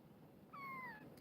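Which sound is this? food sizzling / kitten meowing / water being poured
kitten meowing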